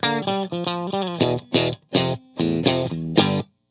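Fender Telecaster with hand-wound single-coil pickups strummed in short chord bursts and stabs, some ringing and some choked off quickly, upfront and alone with no talking.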